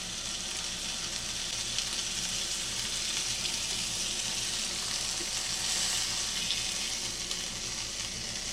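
Beef steaks searing in a pan, a continuous soft hiss of sizzling fat, even and fairly quiet, heard alone without talking.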